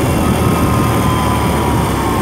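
A 2021 BMW R 18 cruiser motorcycle engine lugging below 2,000 RPM gives a steady, loud, low drone, mixed with wind rush and broad noise and no gaps.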